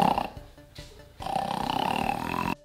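A rhinoceros gives a low guttural grunting call, played as a sound in a guessing game: a rough, snore-like rasp with a short pause, then a longer sustained growl before cutting off.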